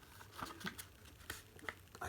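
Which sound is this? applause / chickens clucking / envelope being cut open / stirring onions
envelope being cut open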